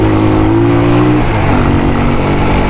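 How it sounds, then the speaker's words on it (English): A loud motorcycle engine revs steadily in first gear close by, its pitch holding then shifting as it drops back, with a constant rumbling drone throughout. "revs in a first gear"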